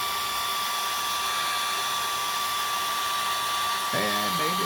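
A hair dryer blows steadily to dry acrylic paint on an 11x14 stretched canvas, a constant loud whirring hum throughout, with a voice briefly joining at the end.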